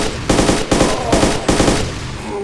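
Sustained automatic gunfire from an ArmA 2 infantry battle, several dense bursts of rapid shots in quick succession with brief gaps between them, loud and close with no talking.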